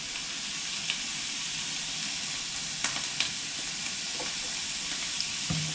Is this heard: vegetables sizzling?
yes